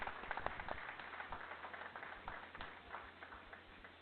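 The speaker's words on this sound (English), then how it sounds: "Please join me in giving her a round of applause." An audience at a school board meeting applauds an assistant coach with steady, moderately distant clapping from a small crowd that slowly fades.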